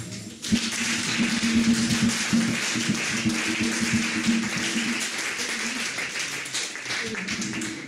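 A church congregation rises and acclaims God, breaking into dense, sustained applause and cheering that starts abruptly and stays loud throughout, with voices mixed into the clapping.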